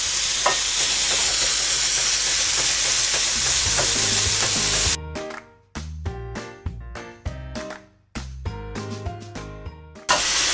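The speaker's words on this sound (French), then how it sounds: "Je vais ajouter maintenant la viande hachée. Et je vais la faire dorer 2-3 minutes." Minced meat and onions fry over high heat, a constant loud sizzle, then a spoon scrapes and stirs the pan in repeated rhythmic strokes with brief pauses.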